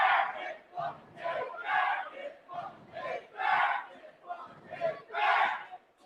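A split crowd at a wrestling match chants in alternating bursts, about a dozen rhythmic shouted phrases rising and falling, moderately loud and fairly close.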